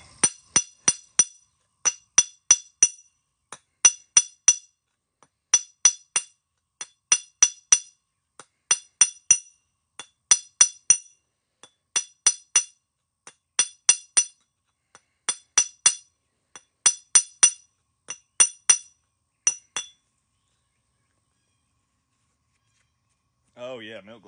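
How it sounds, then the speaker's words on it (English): Sharp glassy clinks in quick clusters of three to six taps repeat steadily and close by as a flintknapping flaker is sharpened. A brief rustle follows after a pause. "I got to sharpen this flaker."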